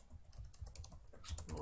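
A few quick, soft keystrokes on a computer keyboard, faint and close, in a short burst with no voices.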